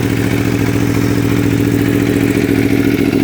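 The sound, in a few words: Aprilia Tuono V4 Factory motorcycle engine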